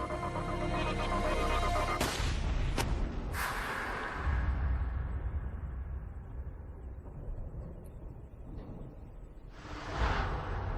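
Rifle shot fired at a target in a JFK head shot recreation: sharp broadband cracks around two and three seconds over a dense, rumbling background, with a later burst near ten seconds.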